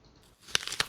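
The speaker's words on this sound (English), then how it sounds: "And yeah, I have a biting sound" A short crunchy bite, as used for eating in a survival game, arrives after a brief quiet start: two crisp crunches with small crackles between them, close and clear within about half a second.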